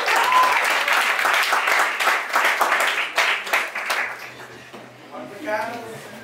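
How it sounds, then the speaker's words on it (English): Audience applauding a young poet, dense steady clapping at moderate loudness that thins out toward the end as a voice begins speaking. "give him a round of applause."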